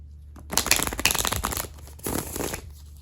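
Close, crisp riffling of stiff tarot cards in two bursts, a rapid papery flutter with a short pause between shuffles.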